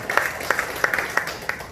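A short, sparse round of applause thanking a pastor for his sermon, with distinct scattered claps at a fairly quiet level.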